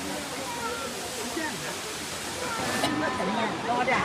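A waterfall in the Yunlong fissure of Enshi Grand Canyon gives a steady broadband roar throughout while tourists nearby talk over it.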